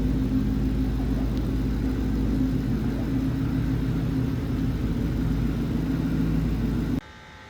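A 2012 Ford Mustang GT coupe with upgrades is heard while driving, a loud, continuous engine drone with steady road rumble that cuts off abruptly near the end.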